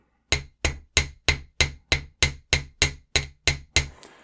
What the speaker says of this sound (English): let's pound out